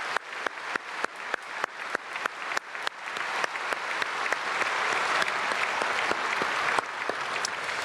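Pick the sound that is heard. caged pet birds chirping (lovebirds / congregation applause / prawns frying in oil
congregation applause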